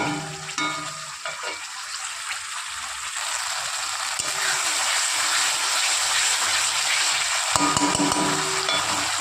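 Ingredients for a tilapia curry with potato and pointed gourd sauté and sizzle steadily in a pan, a continuous close frying hiss with occasional stirring scrapes, no talking.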